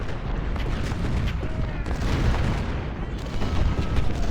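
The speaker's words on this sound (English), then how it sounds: "Where can I mass artillery fire against?" Civil War era artillery cannons in Ultimate General: Civil War fire in a dense, continuous barrage of booms and rumbling gunfire. The battle noise is loud and layered and never pauses.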